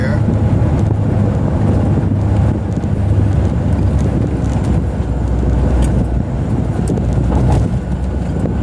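A car rolls along in one of its higher gears, giving a steady, loud engine and road drone mixed with wind buffeting the microphone, continuous throughout.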